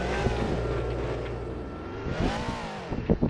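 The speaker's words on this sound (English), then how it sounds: "The car's engine is pretty loud." A car engine in the Roblox game Driving Empire revs and accelerates, its loud harmonic drone rising and falling in pitch as gears shift, with sharp clicks near the end.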